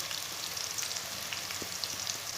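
Chopped onion and garlic frying in a pan for dhaba-style aloo gobi, giving a steady, even sizzle with faint crackles, close but fairly quiet, with no voices.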